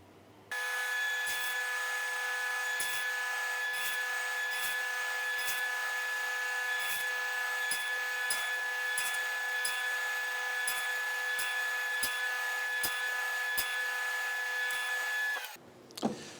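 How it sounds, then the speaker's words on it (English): A table saw fitted with a crosscut sled runs steadily for about fifteen seconds, cutting notches in wood, with a sustained motor whine and faint repeated ticks from the blade nibbling through the stock, then spinning down at the end. "So I'm going to set up my my crosscut sled on my table saw"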